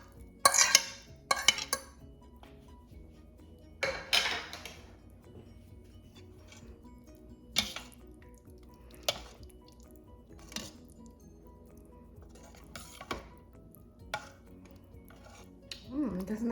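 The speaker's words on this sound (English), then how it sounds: "I'm ready to put back all of the shredded ham meat into the congee, and then I can mix it up" Shredded ham stirred into congee in an Instant Pot: intermittent spoon clinks and scrapes against the metal pot with soft thick squelching, separated by quiet pauses.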